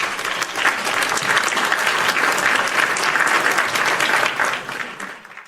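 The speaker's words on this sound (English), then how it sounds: "Hit my hand claps." Sustained hand-clap applause from a podcast's sound-effect button, a dense, even burst of many claps lasting about five seconds and fading at the end, with no voices over it.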